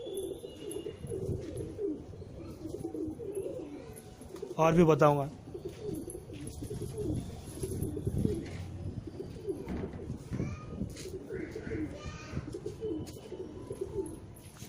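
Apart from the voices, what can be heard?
pigeons cooing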